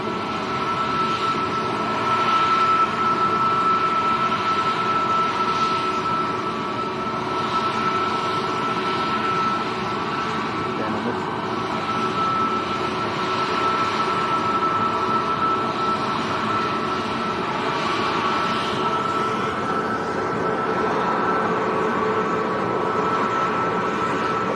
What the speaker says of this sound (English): they certainly pack a punch, them Typhoons, don't they?